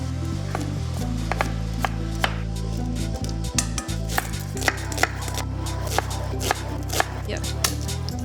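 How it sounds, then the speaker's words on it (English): A kitchen knife comes down on garlic cloves on a board during cooking, giving a handful of sharp, irregular cracks and chops close by over a steady low hum. "And when you smash the garlic,"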